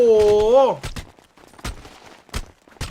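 GTA gunfire during a 15 vs 15 tournament showmatch, several sharp separate shots spaced across a few seconds, following a brief excited voice at the start.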